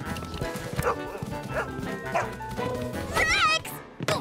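A cartoon dog barks several times in a lively children's animated scene, with sharp yaps recurring over busy background music and sound effects while a character speaks.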